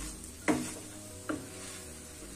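A raw potato batter is mixed with rice flour, with two soft, wet scraping strokes of a spoon against the bowl, quiet and close, with no talking.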